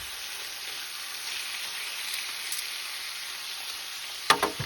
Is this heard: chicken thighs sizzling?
yes